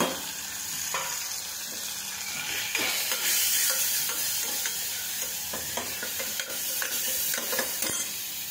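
Tomato frying with spices in a pan for a lentil vada bhaji, a constant crackling sizzle punctuated by repeated spoon scrapes and stirring clicks, close up with no talking.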